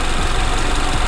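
A carburetted car engine running steadily and loud while its throttle setting is raised toward 1000 RPM, a constant dense hum with no clear rise across the brief moment and no talk.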